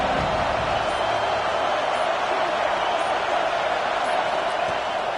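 Stadium crowd noise in College Football 26 forms a dense, constant roar that fills the whole stretch at high volume. Voices blur into the wash, but no distinct speaker stands out.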